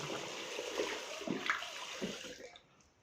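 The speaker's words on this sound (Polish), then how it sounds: "Trochę ciepłej wody sobie do filiżanki naleję" Warm water splashes and trickles into a cup nearby, a soft pouring sound with small gurgles that tapers off and stops.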